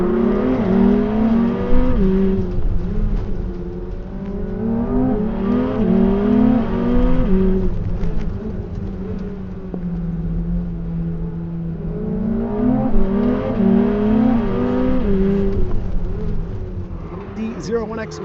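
A Corvette ZR1X laps a figure 8 track, its engine revving up and down in repeated swells with shifting pitch as it accelerates through each section, loud and continuous over a low rumble.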